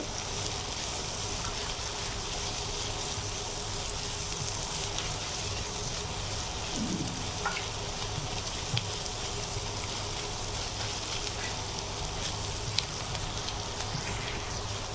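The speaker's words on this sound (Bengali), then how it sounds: "সবজিগুলো এখন আমি ভালো করে একটু নেড়ে চেড়ে ভেজে নেব" Vegetables for a chicken potato roll fry in a pan while being stirred, giving a continuous, even sizzling hiss with a few faint clinks throughout and no speech.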